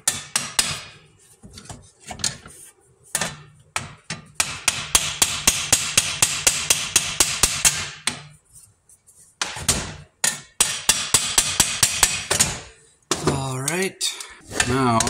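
Sharp, rapid hammer blows drive wooden dowels into the bushings of an IH tractor seat, coming in long fast bursts with brief pauses, close and loud.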